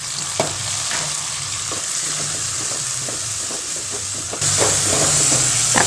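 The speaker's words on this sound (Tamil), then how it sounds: "தக்காளி நல்லா வதங்கட்டும்." Chopped tomatoes sauté with ginger and garlic in a pan for a Kerala fish curry, giving a steady close frying sizzle with intermittent stirring scrapes, the hiss growing louder near the end.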